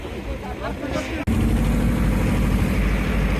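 A fishing trawler laden with fish on the Bay of Bengal heads toward shore, its engine a loud, steady droning chug that starts abruptly after a brief quieter moment and runs close and continuous.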